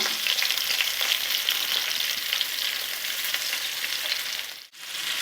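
Chicken kebab fries in a pan with a loud, continuous crackling sizzle, then a brief dip near the end as the pieces are flipped before the frying noise resumes.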